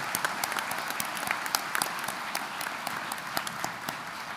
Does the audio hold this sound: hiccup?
no